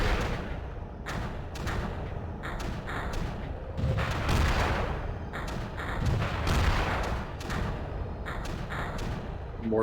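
Mortar firing in the strategy game Creeper World, with repeated dull thumps and booms recurring through a steady layer of game noise, fairly close and loud, no speech over them.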